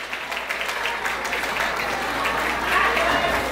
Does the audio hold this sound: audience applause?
yes